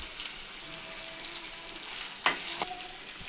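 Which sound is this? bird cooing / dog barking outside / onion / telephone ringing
onion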